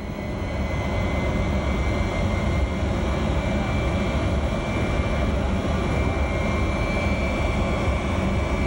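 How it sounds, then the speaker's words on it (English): Jet engines of a presidential plane rev up on the tarmac in 1988, a loud, steady roar with a high whine running unbroken throughout. "And those jet engines revving up."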